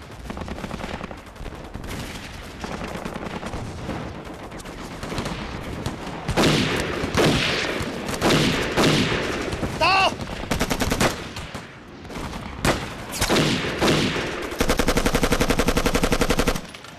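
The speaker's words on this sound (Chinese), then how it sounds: "我先头部队已经和鬼子交上火了" Sustained battle gunfire, with dense machine-gun bursts and rifle shots rattling in overlapping volleys, loud and close, punctuated by heavier blasts, with brief shouted voices between the firing.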